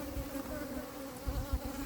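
Close, steady buzzing of a drone honey bee held by the wing during fall beekeeping, droning at a constant pitch with slight wavering, faint and without voices.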